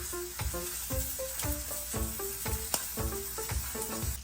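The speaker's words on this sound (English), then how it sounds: "So I'm gonna go in with my steak, and I'll lay that down. Pressing gently, so it has nice contact with the pan." An A5 wagyu ribeye steak sears in a hot pan with a continuous loud sizzle, crackling and spitting as the fat renders, with irregular sharp pops layered over the steady hiss.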